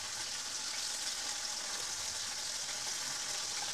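Fish frying in a pan for fish curry gives a soft, steady hiss of sizzling oil. It is even and unbroken, with no talk.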